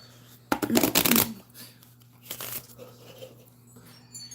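Tarot cards riffle-shuffled close by, a dense crisp burst of flicking card edges lasting under a second, then a softer, briefer second shuffle, with a steady low hum underneath.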